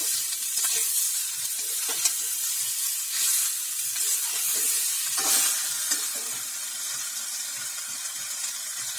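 Pre-boiled cabbage frying in a pan with cooked-down spices, a steady hiss of sizzling under repeated scraping and stirring knocks, close and even throughout.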